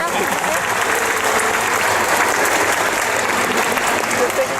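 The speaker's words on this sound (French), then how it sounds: "Merci des applaudissements pour John" A convention audience applauds an actor from The Hobbit, giving a dense, sustained roar of many hands clapping at steady loudness throughout, with crowd murmur mixed in.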